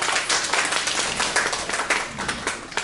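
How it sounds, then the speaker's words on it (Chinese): Audience applause at a traditional Chinese storytelling show in a Deyun Society hall, a dense burst of many hands clapping at once, steady and fairly loud for about three seconds. "谢刚才各位的掌声鼓励啊"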